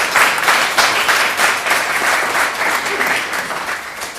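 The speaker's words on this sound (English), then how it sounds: "Let's give a round of applause for our panelists." An audience at a panel discussion on ending prohibition gives a round of applause to the panelists, a loud, steady, continuous clapping that fills the space for a few seconds without speech.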